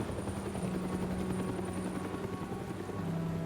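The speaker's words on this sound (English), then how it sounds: "Oh, helicopter." Helicopter rotor thrum from Batman The Telltale Series video game, a steady beating chop holding at a moderate, fairly distant level throughout.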